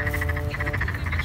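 A chorus of frogs croaks near a pond, with loud pulsing calls repeating in a steady rhythm and no voices over them.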